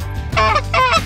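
A goose in a field near Quill Lake honks twice in quick succession, loud and close, with a low rumble of wind or engine noise underneath.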